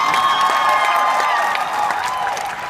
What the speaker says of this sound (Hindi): अगर आपको अच्छा लगे तो प्लीज ताली मार देना